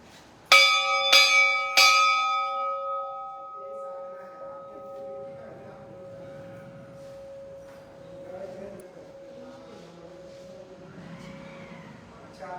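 A temple bell rings during a midnight Kali puja: three quick, loud strikes near the start, then a long metallic hum fading slowly under faint background murmur.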